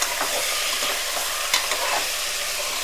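About a kilo of chicken frying in a pressure cooker for gongura biryani, a loud, steady, close sizzle with faint stirring underneath and no talk.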